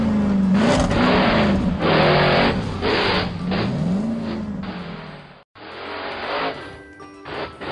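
A cartoon monster truck engine revs loudly and steadily throughout a race, its pitch rising and falling with acceleration and a brief cut near the end before the roar resumes.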